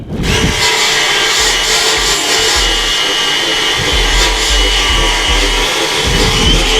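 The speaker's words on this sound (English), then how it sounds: "I'm using a cordless drill with a cup wire wheel on it." Cordless drill spinning a cup wire wheel against the rusty rim of a 1951 John Deere MT tractor, a continuous loud grinding whir with rough scraping texture, close and steady for about seven seconds without talk.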